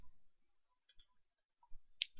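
Mouse clicks on a computer while working in a database form's design view: a few soft, separate clicks spread over about two seconds, quiet and close, with no talking.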